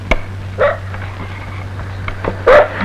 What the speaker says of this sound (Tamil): துப்ரீம் நாய் சீசர் கொலையாளியை கண்டுபிடிக்க மதுரையிலிருந்து விரைந்து வருகிறது.